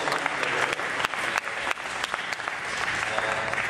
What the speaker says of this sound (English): Perhaps we can give both of these speakers a round of applause.